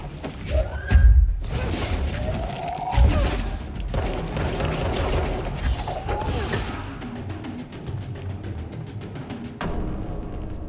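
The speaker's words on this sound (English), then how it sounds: "I forgot the forklifts explode." Exploding forklifts in the video game Control: a couple of deep booming blasts near the start, followed by rumbling crashes and clatter amid ongoing game noise.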